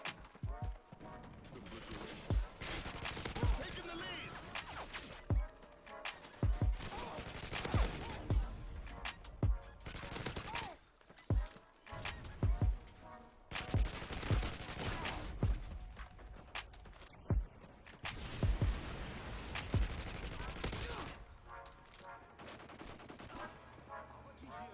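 Rapid bursts of automatic fire from an ACR rifle in Call of Duty: Modern Warfare 2 crack out in repeated volleys across a busy multiplayer battle, loud and close, with mechanical clatter between the shots.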